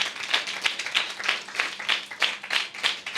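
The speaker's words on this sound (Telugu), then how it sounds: "if you believe, claps for the lord" Congregation at a Sunday church service claps for the Lord, roughly ten rhythmic bursts of many hands at an even tempo, with no voices over them.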